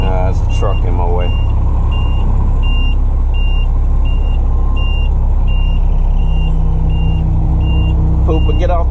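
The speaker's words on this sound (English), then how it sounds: "There's a truck in my way." A truck's reversing alarm beeps in a steady, regular rhythm over a loud engine rumble on a street, with other car noise and a voice briefly heard near the start and end.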